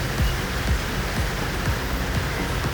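Steady rain falls and patters on a surface as a constant, fairly loud hiss with scattered drop impacts and no voices.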